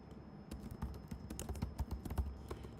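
Rapid, uneven keystrokes on a computer keyboard, close and crisp, with bursts of clicks and a few heavier taps on larger keys, with no talking.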